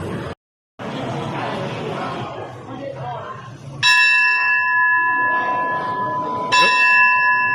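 A bell rings out twice with clear, sustained metallic tones that hang and decay, loud and near, amid a crowd murmur at Ayutthaya in Thailand.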